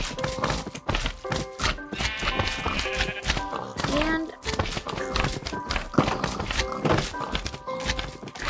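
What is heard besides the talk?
horse walking, from a video game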